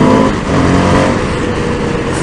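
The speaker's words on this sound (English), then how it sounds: "Oh, high revving machine." An Indian FTR 1200 motorcycle engine revs high, loud and close, in one sustained roaring pull.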